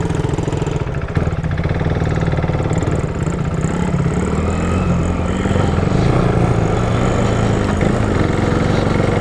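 A fully automatic SSR SR70 pit bike runs steadily out in the Arizona desert, its small engine buzzing loud and close the whole time, with the revs rising and falling a little as it rides.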